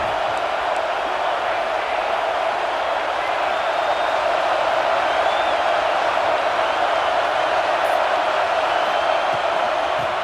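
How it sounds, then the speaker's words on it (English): A home crowd at a Hawaii versus Florida football game sends up a loud, steady wall of cheering and roaring noise that holds unbroken and close for the whole stretch. "this home crowd is fired up and ready to make a difference today"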